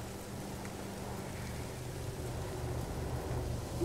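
Rain falls on an alien planet in No Man's Sky as a soft, steady hiss over a low continuous rumble, quiet and unbroken throughout.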